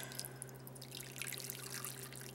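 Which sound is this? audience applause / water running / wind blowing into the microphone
water running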